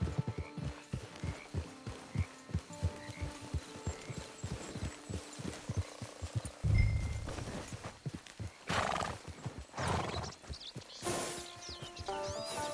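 Horse hooves clip-clop in a steady walking rhythm in the Red Dead Redemption video game, followed by a loud whinny and snorting close by.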